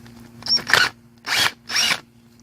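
A power tool backs screws out of an 1984 Honda Big Red motorcycle engine during a rebuild, giving three short whirring bursts, the first stuttering, with brief pauses between them, close and loud.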